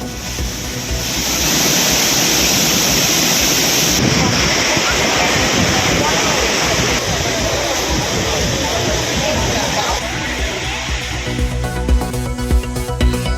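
Rushing water from the Five Falls and Tiger Falls at Courtallam roars loudly and steadily, a broad continuous wash of falling water close by that holds for the whole stretch.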